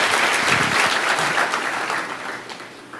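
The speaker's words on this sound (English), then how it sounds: "We couldn't hear here because of the applause for that." Sustained applause from a conference audience at the Clinton Global Initiative, dense clapping throughout that tapers slightly toward the end.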